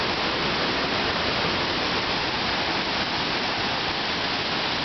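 Steady, loud rush of water by the rivers near Niagara Falls close to Three Sisters Islands, a dense unbroken roar filling the whole stretch with no voices over it.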